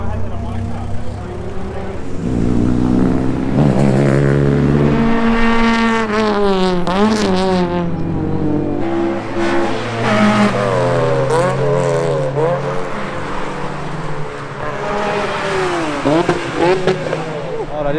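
Drift cars race around the Ebisu circuit, engines roaring and revving continuously with rising and falling pitch as they pass, loud and close throughout, with some voices mixed in.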